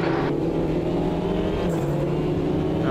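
Touring car engines in the racing video game Automobilista 2 roar continuously at high revs, a dense, loud mechanical drone with a slight shift in pitch partway through.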